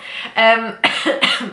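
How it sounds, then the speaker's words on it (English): A woman coughs in a room, two or three harsh, close bursts in quick succession with a short voiced catch between them, loud against an otherwise quiet background. "I'm so sorry for the coughing."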